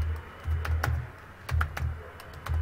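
Close computer keyboard typing of Python code, several quick bursts of key clicks separated by short pauses, with no talking.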